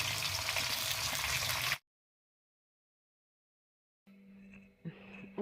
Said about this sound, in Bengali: মাছ ভেজে নিলাম, একবার ভাজা হয়ে গেছে, আর এটা ভাজলে হয়ে যাবে।